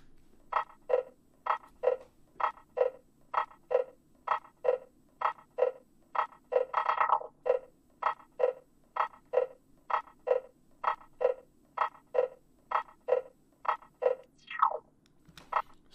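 Electronic music loop for an 8-bar pattern, built from evenly spaced short rhythmic hits with a filter sweep that briefly opens up the brightness midway; steady, clean and alone without talk.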